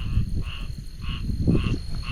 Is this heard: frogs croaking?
yes